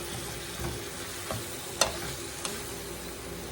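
Onions, fresh garden tomatoes and okra simmer in a pot, a soft steady bubbling hiss with a few faint clinks of a stirring utensil against the pot; no talking.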